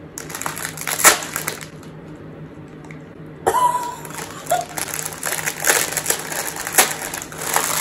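A packet of dry ramen noodle snack is crushed by hand, giving close, loud crinkling and crunching bursts. A brief quieter pause comes before a longer stretch of crackling crushing.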